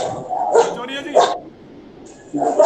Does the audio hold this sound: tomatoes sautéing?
no